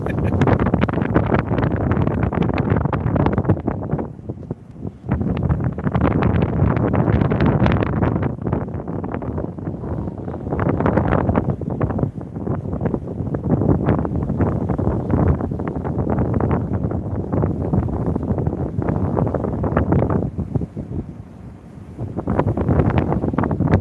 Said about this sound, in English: she's a bit windy, Dean.